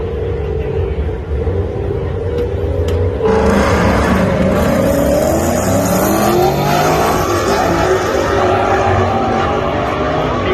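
A Ford Mustang and a Chevrolet Camaro race at Bristol drag strip, engines roaring loud and continuous with a sharp rise in intensity a few seconds in, sustained hard acceleration throughout.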